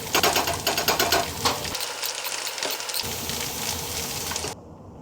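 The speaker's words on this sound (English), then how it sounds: "And start basting it up." A sirloin steak sears and is basted in a very hot Hexclad pan, a loud continuous sizzle and crackle with rapid spitting pops that drops off abruptly at the end.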